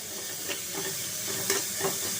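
Two medium onions, finely chopped, sautéing in sesame oil, a steady close sizzle and hiss with a few soft stirring scrapes over it.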